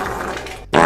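A fart sound effect played from a soundboard button, a loud wet blat that swells, cuts out briefly, then returns with a sharp, louder burst at the end, heard alone without talk.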